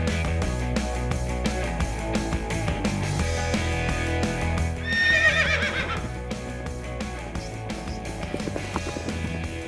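Police patrol horses in a mounted unit stable area, with a horse whinnying near mid-clip amid a dense, continuous background of other noise and faint hoof movement.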